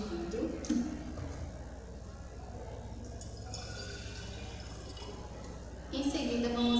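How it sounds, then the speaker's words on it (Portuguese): Water is poured from a cup into a glass container, a close, soft trickling and splashing that runs steadily before it swells at the end. "adicionar um copo de água no recipiente de vidro"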